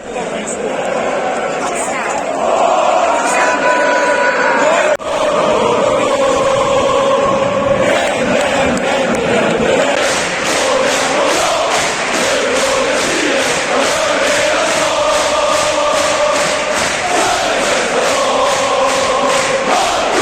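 Swedish sports fans in a stadium crowd, chanting and singing in unison, with a rhythmic pulse of claps or drumbeats growing steadier toward the end, loud and sustained throughout.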